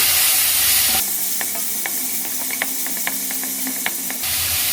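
Garlic and fennel seeds frying in a pan while being stirred: a steady sizzle and hiss with scattered scraping taps of the spoon, loud and close, with no talk.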